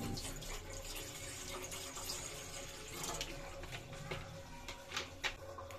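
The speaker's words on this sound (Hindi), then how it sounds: "इसके अंदर जाएगा 2 कप पानी।" Drinking water pours into a cooking pot, a soft continuous trickle and splash heard fairly close and quiet throughout.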